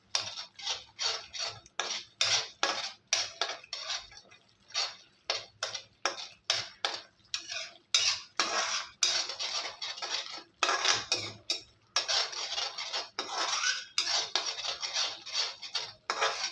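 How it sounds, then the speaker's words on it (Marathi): A spoon stirs spices, coriander-cumin powder and garam masala, into tomato gravy in a metal pan, making steady rapid clinks and scrapes against the pan in an uneven rhythm, close up with no talk. "पाव चमचा धणा जिरा पूड आणि पाव चमचा गरम मसाला हे सगळे एकजीव करून घेणार आहोत"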